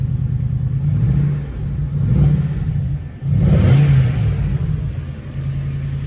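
Cold supercharged 4.2 V8 in a Jaguar S-Type R with a Sport Jaguar Performance exhaust, idling on choke and revved twice, giving a deep, loud rumble that rises and falls in two swells.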